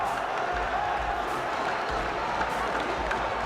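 A large stadium crowd at the FIFAe World Cup esports event sends up a steady, dense roar of cheering that fills the whole clip, loud and continuous with no clear break.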